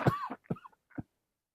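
A voice imitates a cough: three short, rough bursts in a row, close and fairly quiet, followed by silence.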